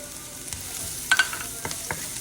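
Garlic and onion sauté in a pan with a soft, steady sizzle, broken by a few sharp metallic clinks and scrapes of a utensil against the pan.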